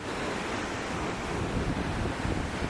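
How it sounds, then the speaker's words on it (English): Ocean waves surge and crash on the shore nearby, a steady, loud wash of surf with gusty wind noise buffeting the microphone throughout. "Look at these waves. I'm about to get blasted by a wave, watch."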